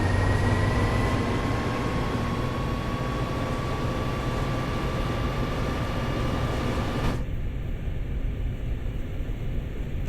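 Diesel rumble of an American freight locomotive opened to full throttle in Train Sim World, a steady loud drone with rising whine tones, the higher band cutting off abruptly near the end while the low roar continues.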